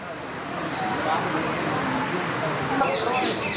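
A waterfall flowing between two mountains beside Shri Jageshwar Mahadev temple gives a steady, broad rushing roar that swells slightly. High bird chirps come near the end, and a voice may be heard faintly over the water.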